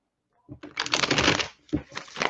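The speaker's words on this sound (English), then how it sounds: "So I'm going to go ahead and shuffle" Tarot cards being shuffled by hand, a quick riffling, flapping burst of close paper noise that pauses briefly, then resumes with another run of shuffling.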